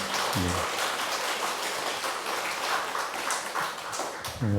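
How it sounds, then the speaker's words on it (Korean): A church congregation claps together in a sustained wash of applause during a Sunday service, with brief bits of voice at the start and end. "우리 박수로 한번 청년 목장 격려하겠습니다."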